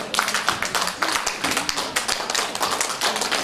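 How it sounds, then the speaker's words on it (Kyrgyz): Applause at a public opening ceremony of a Kyrgyz women's association, a crowd clapping steadily and briskly, close and loud, with no talk over it. "кол чабуулар болсун."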